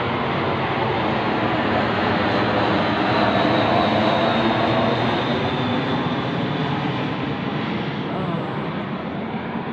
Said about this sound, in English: Another jet right in my line of sight, straight in front.